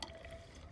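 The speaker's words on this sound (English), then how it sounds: "I'm going to open it up and start pouring, and hopefully not so much spilling." Water being poured from a plastic bottle into a container, a faint, short trickle of liquid heard alone.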